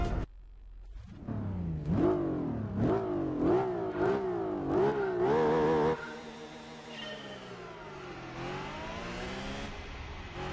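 A lightened Honda NSX in Gran Turismo 4 launches on a drag run, its engine revving up through five or six rising gear pulls in quick succession, then settling into a sustained high-speed drone, clear and alone.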